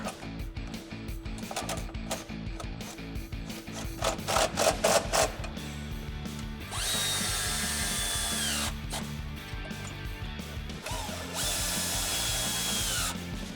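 Power tool driving bolts up through the floor while fitting drop side step bars on a Jeep Wrangler JL 2-door, in repeated close whirring and ratcheting bursts with short pauses between them.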